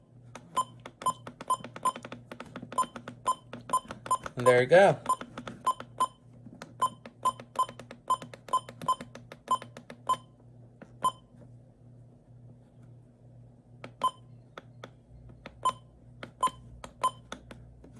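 Midland WR-400 weather radio button beeps: a long run of short, sharp electronic beeps in quick, uneven bursts as keys are pressed while scrolling a menu, close and clear, with a brief spoken remark.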